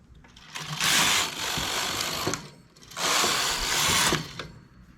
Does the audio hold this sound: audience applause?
no